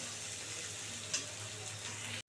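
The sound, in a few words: ginger, garlic and tomato frying in pan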